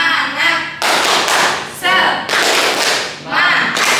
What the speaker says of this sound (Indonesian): Oke, 1, 2, 3. Tepuk semangat.